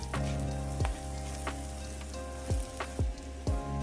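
Sliced okra fries in hot oil for a Kerala kichadi, giving a steady close sizzle with a few sharp crackles and pops scattered through it.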